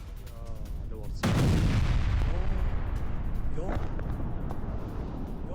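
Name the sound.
artillery bombardment in Idlib, Syria, news footage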